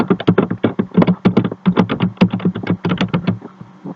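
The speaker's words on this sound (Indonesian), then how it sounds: "Dan pada label kita ketik pretest control." Rapid, even keystrokes on a computer keyboard while entering labels in SPSS, a close, crisp run of clicks with brief pauses between words, no voice over it.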